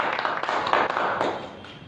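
A church congregation claps hands together in thanks, a dense, steady patter of many hands close by that holds for about two seconds before thinning out slightly at the end.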